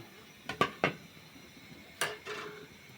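Fried puran puri pitha comes out of a metal pan with a few sharp utensil clinks and scrapes, close and distinct, in two short clusters separated by a quiet pause.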